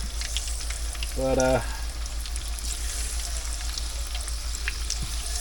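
Jicama fries for a low-carb keto recipe sizzle steadily in hot frying oil, a constant hiss that runs throughout, with one brief spoken word over it.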